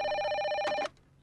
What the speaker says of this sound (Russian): Звоним Крэгу Беннету.